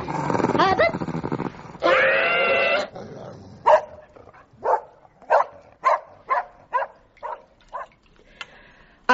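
A dog snarls in drawn-out growls, then lets loose a run of sharp, loud barks in uneven bursts, close by and heard alone.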